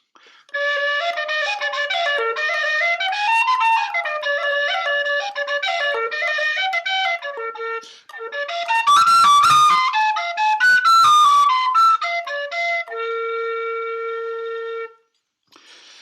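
A tin whistle plays a lively melody of quick notes and ornaments, then ends on a long held note, heard solo and clear.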